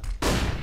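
Sharp burst of rapid gunfire in a CS:GO competitive match, erupting suddenly after a brief quiet and sustained loud and close until the end.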